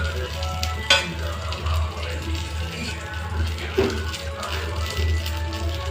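Capsicum and besan masala sizzles and is stirred in a pan, a steady frying hiss with occasional spoon scrapes and clinks, fairly close, with faint speech in the background.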